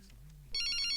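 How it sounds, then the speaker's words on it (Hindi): A phone ringtone starts suddenly after a quiet moment in a Hindi film scene, a bright, loud electronic trill with a rapid repeating pattern. "फोन आया।"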